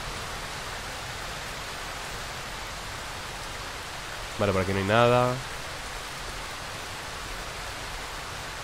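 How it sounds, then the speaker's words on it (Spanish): Steady, loud rain pours in the horror game Darkwood as a dense, even hiss that fills the whole clip, with a voice briefly speaking over it near the middle. "no me gusta la lluvia porque suena muy alto"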